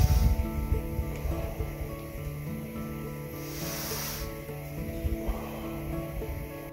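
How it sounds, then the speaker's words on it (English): Deep, controlled Wim Hof method breathing, close and airy, with a long drawn inhale and exhale sounding as soft, breathy rushes over several seconds. "So we want to take a very deep breath."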